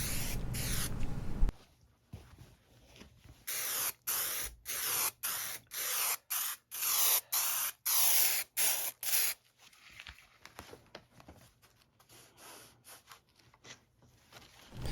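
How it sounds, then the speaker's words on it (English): 3M maximum strength spray adhesive hisses from an aerosol can onto the back of wood trim and Velcro hooks in a string of short, loud, close bursts of roughly half a second each, with quieter gaps and softer sprays toward the end. "using 3M's maximum strength spray adhesive on the back of the wood trim and the hook portion of the Velcro"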